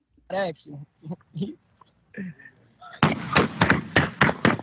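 A rapid series of sharp gunshots rings out outside a family home in Ypsilanti, caught on a phone during a Facebook Live, loud and close in quick bursts after a stretch of people talking.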